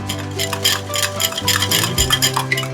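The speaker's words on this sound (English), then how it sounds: "Stir again." A utensil stirring chicken piccata sauce in a pan, soft scraping and clinking in a steady rhythm close up, with a low hum running underneath.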